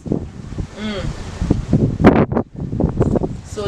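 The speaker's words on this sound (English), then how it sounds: "It's very windy out here today." Gusty wind buffets the microphone outdoors, rumbling and rustling in uneven bursts, while a voice speaks intermittently.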